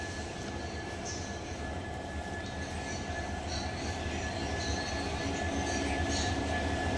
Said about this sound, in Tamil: ட்ரெயினை ஃபுல் பண்ணக்கூடிய கிங், அதாவது இன்ஜினை நம்ம பார்க்க போகிறோம்.